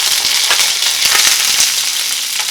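Curry leaves with cinnamon, cloves and finely ground onion frying in hot oil for a Tamil ennai kathirikkai kuzhambu, giving a loud, steady crackling sizzle with small pops throughout and no voices.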